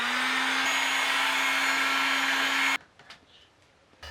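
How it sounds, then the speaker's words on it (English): A heat gun blows a steady, loud whir with a faint whine for close to three seconds in roughly 35 °C heat, then cuts off sharply, leaving quiet room tone and small handling noises. "I'm about to use a heat gun."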